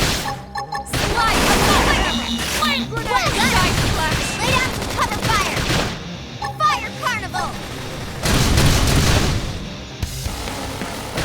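Rapid bursts of gunfire and booming impacts fill a Xenoblade Chronicles X battle, dense and loud, mixed with combat effects, music and voices calling out.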